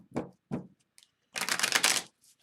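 A deck of tarot cards is shuffled by hand: two quick riffle bursts, a short pause, then a longer crisp run of flapping cards, close and clear with no talk.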